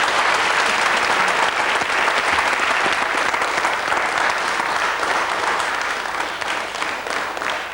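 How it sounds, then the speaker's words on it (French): Sustained, dense studio audience applause for a contestant on the French quiz show Questions pour un champion, loud and steady throughout with no talk over it. "Et je voudrais qu'on applaudisse Eliane"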